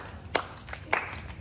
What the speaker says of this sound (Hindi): ताली बजा दो एक बारी जोर से जरा